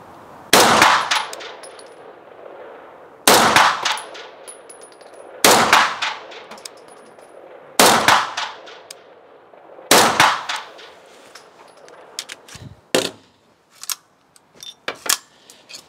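Five short bursts of fully automatic fire from a Sterling submachine gun, open-bolt Mk.4, spaced about two seconds apart, loud and close, each with a sharp crack and a brief echo, followed by a few scattered single clanks.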